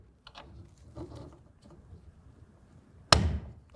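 A mounting clamp snapping into place on a BAKFlip MX4 hard folding tonneau cover on a Mitsubishi Triton pickup, soft fiddling clicks and scrapes leading to one sharp, close plastic-metal snap near the end.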